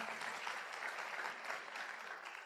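An indoor audience claps steadily throughout, a dense, even wash of applause at moderate distance with no voices standing out.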